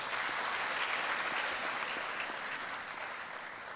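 Steady, dense applause from a large audience at a graduation ceremony, sustained clapping throughout at even loudness with no voices over it.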